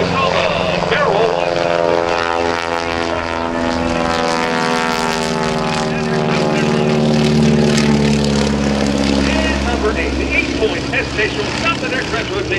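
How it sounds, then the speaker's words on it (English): A Stearman biplane's propeller engine roars through aerobatic manoeuvres at the 2010 New Garden Airshow, a loud continuous drone whose pitch sweeps up and down as the plane climbs and rolls, with an announcer's voice running over it. "he wants to roll that airplane"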